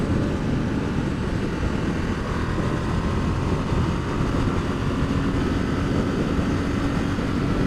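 A 2016 Ducati XDiavel motorcycle pulls hard through pouring rain, its engine a loud, steady, rumbling roar mixed with broadband wind and spray noise throughout.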